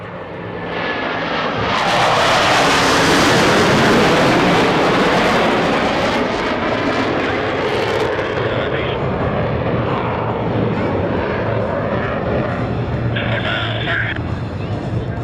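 US Navy Blue Angels jets at the Millville airshow roar loudly overhead, swelling to a peak and then holding a steady, broad jet roar as they pass, with faint crowd noise underneath.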